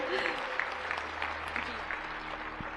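An audience at a Swami Ramdev yoga gathering claps to welcome two children, with steady, fairly loud applause filling the hall and a low hum beneath it.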